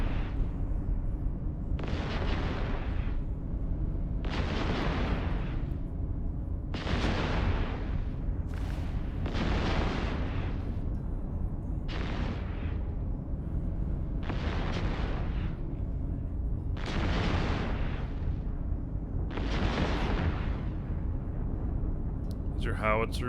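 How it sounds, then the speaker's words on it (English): Howitzer artillery fire in EVE Online, about ten heavy booming blasts roughly every two seconds, each a sharp loud burst with a short rumbling decay over a constant low background hum. "These are howitzers. Working under their artillery."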